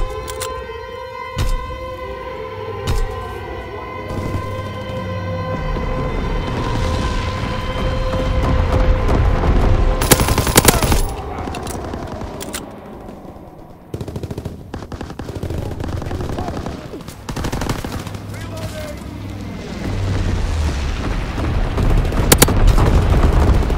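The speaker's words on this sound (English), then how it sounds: "Low altitude bombing run underway." Carpet bombing run in Call of Duty: WWII, with heavy bursts of explosions and machine-gun fire rattling continuously over a wailing air-raid siren. The blasts are loud and dense throughout, with big booms near the middle.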